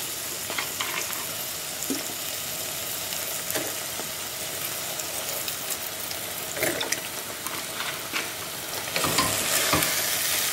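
Goan masala with onion, tomato and vinegar frying in a pan for a mince hot dog filling, giving a moderate continuous sizzle with periodic stirring scrapes and a louder burst of spatter near the end.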